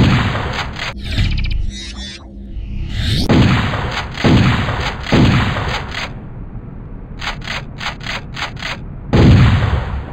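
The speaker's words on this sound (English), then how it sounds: "This shotgun is completely reinvented and is fun to shoot." Shotgun fire in the video game Turok Evolution: several loud, booming blasts spaced a second or two apart over a steady game soundscape, each shot with a sharp attack and rolling decay, with no talking.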